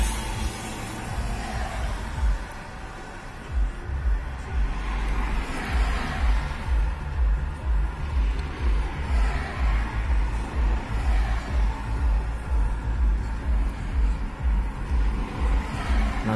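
Oncoming cars on a ring road with an 80 km/h limit sweep past one after another, a steady roar of traffic with swelling whooshes every couple of seconds, close and continuous.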